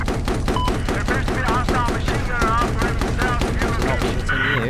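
Rapid, rhythmic automatic gunfire in a video game, loud and continuous bursts of repeated shots, with a player's voice talking over the shooting.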